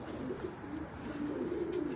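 Yakki pigeons cooing on a rooftop, soft repeated low coos at close-to-mid distance with faint chirps above, no talking.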